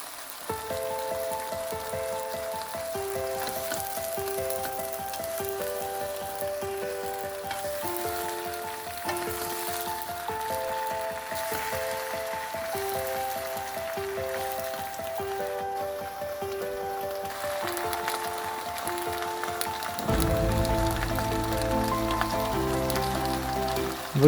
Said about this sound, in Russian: Добавляем листья и обжариваем еще 1 минуту.